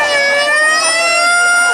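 A loud, close ambulance siren wails continuously with a steady tone, sounding at an outdoor evening comedy show.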